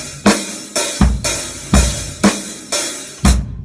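A slow, heavy halftime rock groove on a drum set, with booming bass drum and big roomy snare backbeats ringing out, loud and close.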